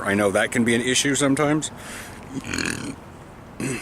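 A person recovering at home lets out a throaty burp followed by a short hiccup, just after a stretch of close conversational speech.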